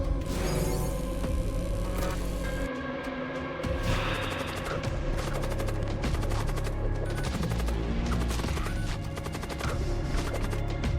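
Ship weapons in the space combat game Void War fire in dense, overlapping bursts of rapid shots and crashing impacts, loud and continuous throughout with no talking.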